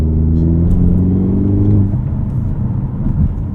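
A 2024 Hyundai Elantra N with a six-speed manual pulls hard under acceleration, its engine a loud, close, rising drone with no talking.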